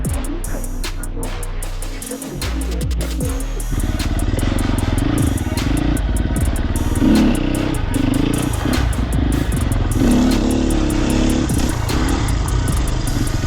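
A 2023 Sherco SEF300 four-stroke dirt bike being ridden hard gives a loud, close engine drone that swells and falls with the throttle across the whole stretch, with rougher bursts and mechanical clatter.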